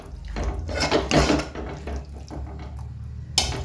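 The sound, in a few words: water being poured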